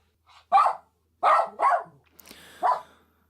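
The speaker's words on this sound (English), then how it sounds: "Here we go with the dogs again." Several loud, close dog barks, spaced irregularly over a few seconds with quiet gaps between them and no other sound.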